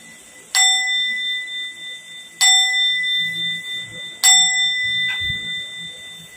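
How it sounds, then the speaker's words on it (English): A small bell struck three times at even intervals, each ring bright and clear with a long sustained shimmer fading between strikes. "I'm gonna ring my bell here."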